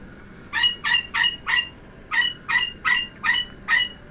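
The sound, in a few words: pet bird calling loudly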